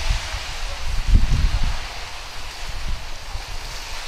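Soft rushing surf of sea waves on a private beach by the South China Sea, a steady broadband wash with a low swell rising and fading, fairly close and heard without talk.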